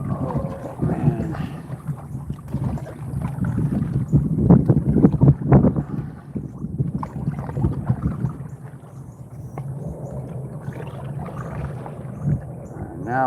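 Wind buffets the microphone while a canoe is paddled on open water, making a steady low roar that swells and fades over lapping water, with brief muffled voices.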